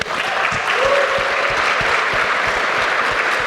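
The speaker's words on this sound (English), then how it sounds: "a round of applause for you" An audience at a business presentation gives a round of applause, a steady dense clapping that holds at one level for the whole stretch, fairly loud and nearby, with no voices over it.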